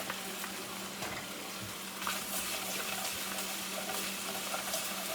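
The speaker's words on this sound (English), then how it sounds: "To that, we're going to add some garlic." Garlic, a heaping tablespoon, frying in a pan, giving a steady broadband sizzle that crackles continuously for the whole stretch with no talking.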